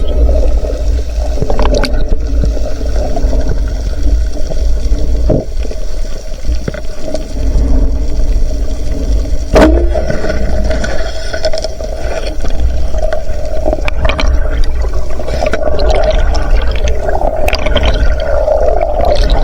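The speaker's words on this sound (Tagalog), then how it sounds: "Grabe yung alon" Strong sea waves churn and crash steadily at close range at Kalarayan, with rushing surf and occasional sharp splashes over a constant low roar.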